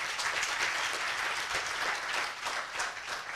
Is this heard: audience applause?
yes